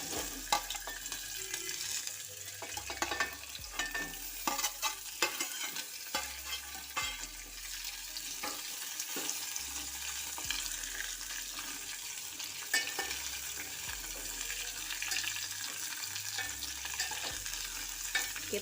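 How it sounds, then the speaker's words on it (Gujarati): Chillies, capsicum and onion sizzle and fry in a pan, with a constant crackle broken by repeated scraping stirs and occasional clunks of the spatula, close and fairly quiet throughout. "હવે આપણે મરચાં, કેપ્સિકમ મરચું અને કાંદો ઉમેરી દેશું।"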